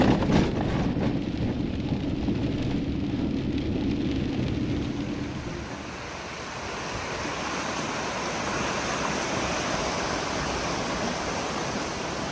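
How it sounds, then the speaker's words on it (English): Heavy rain falling beside Willow River in Alaska, a dense, steady hiss with a broad rushing wash underneath, continuous and fairly close, with no voices. "It's raining hard."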